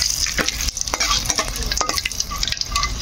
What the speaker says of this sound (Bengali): এইদিকে তেল গরম হয়ে গেছে এদিকে হচ্ছে গরম মশলাগুলো দিয়ে দিলাম